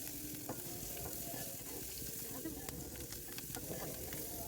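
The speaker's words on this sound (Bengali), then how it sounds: "সুন্দরভাবে নাড়াচাড়া করতে থাকলাম, হালকাভাবে ভাজা করে নিলাম" Dried red and green chillies with coriander frying in a pan as they are stirred, a steady close sizzle with scraping stir sounds throughout, and no voice over it.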